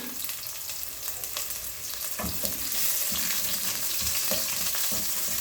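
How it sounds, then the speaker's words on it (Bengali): Chopped onion frying in oil for khichuri, a steady sizzle with a few scraping stirs, growing slightly louder partway through, no voices. "পেঁয়াজটা আমি ভালো মতো লাল লাল করে ভেজে নেব"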